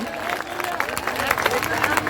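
Audience applause at the Sharad Mahotsav 2022 poetry recital, a dense, steady wash of many hands clapping that stays loud and even for its whole length, with crowd murmur mixed in.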